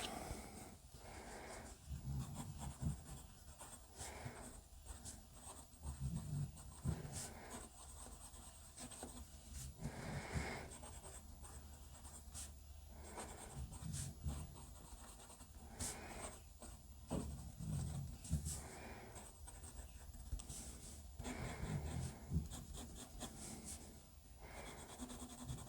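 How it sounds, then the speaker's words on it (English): A fountain pen scratches across cheap paper in quiet, close, soft strokes, with irregular rubbing and brief pauses between words and lines, faint and continuous. "I hadn't done any writing on camera using just cheaper paper"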